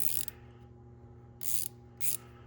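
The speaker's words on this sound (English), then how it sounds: "now we have our little Utoku 4-in-1 ratcheting wrench, where we've got an 8, 10, 12, and 14 millimeter." A compact Utoku 4-in-1 ratcheting wrench clicks in a few quick bursts, close and fairly faint against a low steady hum, with quiet gaps between.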